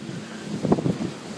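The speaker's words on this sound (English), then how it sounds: "We're going to walk to the back of the boat where it's not so windy." Strong wind on a cruise boat deck in Alaska gives a short, low rumbling buffet against the microphone, swelling briefly in the middle before settling back.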